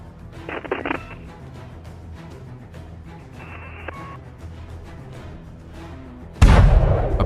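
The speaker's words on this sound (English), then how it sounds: "A perfect hit, and the enemy vehicle detonates spectacularly, spewing ammunition." A HIMARS strike on a Russian military vehicle sets off its ammunition, with muffled thuds and crackling bursts in the distance, then a sudden loud roaring detonation near the end.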